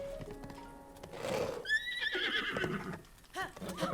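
A horse in Zelda: Breath of the Wild gives a loud, rising whinny, with clip-clopping hooves before and after it and a few softer snorts near the end, and no talk.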